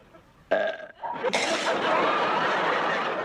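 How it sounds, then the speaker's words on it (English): A loud belch erupts from a woman, followed by a short second burst and then laughter and chuckling. "teach me to belch"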